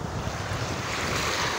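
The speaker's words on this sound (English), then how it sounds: "That was just real fast, that water came right in." Water surging in fast along a shore, a steady, loud rush of surf with wind buffeting the microphone throughout.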